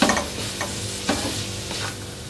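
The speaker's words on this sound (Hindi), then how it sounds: "अब इन सब सब्जियों को भी 2 से 3 मिनट तक तेज़ आंच पे फ्राई कर लेना आपने।" Vegetables stir-frying in a pan over high heat, a continuous sizzle punctuated by several scraping stirs of a spatula, close and without talk.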